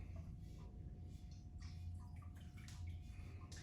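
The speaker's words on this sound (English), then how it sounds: "I rotate and pour the liquid slowly out." Ceramic glaze pours slowly out of a turned vessel as a faint, steady liquid trickle with small splashes and drips over a low room hum.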